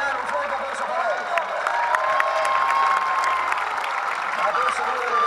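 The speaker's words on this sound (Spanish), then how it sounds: "un fuerte aplauso para él" Outdoor crowd applauding a parachutist after a landing at a jump display, sustained clapping and some cheering at moderate loudness, with a long tone running through and speech over it.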